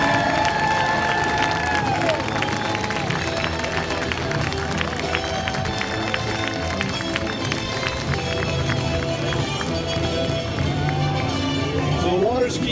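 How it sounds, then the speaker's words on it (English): Audience at an anniversary water ski show claps and cheers in a long, loud, continuous roar of hands and voices, mixed with crowd chatter and a talking announcer throughout. "Let's give them a round of applause."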